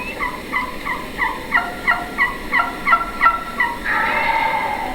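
A wild turkey hen yelps in a rhythmic series of about ten clear, fairly loud notes, ending in a rougher, longer call.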